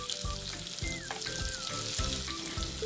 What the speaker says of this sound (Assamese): পিঁয়াজখিনি দিয়াৰ পিছত মই অকণমান সময় পিঁয়াজখিনি ভাজি ল'ম, অলপ ৰঙচুৱা হোৱালৈকে